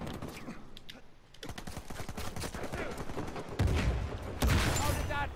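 Video game gunfire in Uncharted 4, a rapid string of close shots and bursts that grows louder toward the end, with two heavier blasts near the finish.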